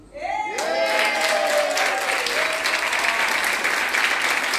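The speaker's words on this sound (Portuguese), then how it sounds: "Agora eu quero pedir uma salva de palmas para vocês mesmos." A church congregation bursts into loud, close applause after a short tone-like voice fades in, the clapping quickly filling out into a dense, sustained roar with faint cheering mixed in.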